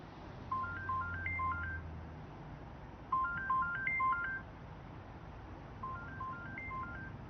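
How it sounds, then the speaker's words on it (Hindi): A phone ringtone plays a repeating melodic pattern three times, with short gaps between bursts and no one picking up, set against low steady background hiss. "आप फोन क्यों नहीं उठा रहे?"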